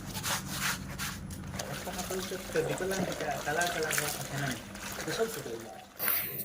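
New clothes are washed by hand in water, soft sloshing and rubbing running throughout under a person talking.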